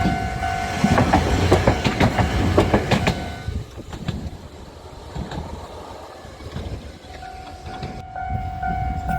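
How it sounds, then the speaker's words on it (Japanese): Kagoshima City Tram 10125, a low-floor Utram, rolls past a level crossing with rhythmic wheel clatter, loud at first and then fading, while a crossing bell rings steadily underneath. "10125ユートラム低床電車です。"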